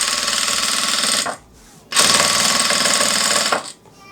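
Sewing machine set to 1200 stitches per minute, running fast on fabric in a home handmade-goods workshop: a loud, dense, buzzing stitch rattle in two bursts separated by a brief pause, no talk.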